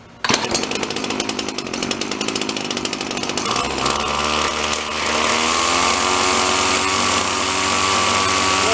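An old Sears Best gasoline engine machine cranks with rapid rough firing pulses, then catches and settles into a loud, steady close-up running drone that holds to the end.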